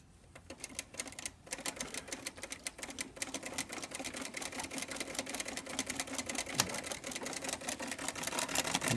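A Singer 306 sewing machine runs steadily through a zigzag stitch, its fast needle mechanism producing a continuous rapid clatter that holds even and close from start to finish, with no voices.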